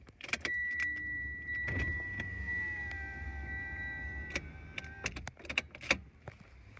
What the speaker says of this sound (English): so I'm going to roll down the windows real quick.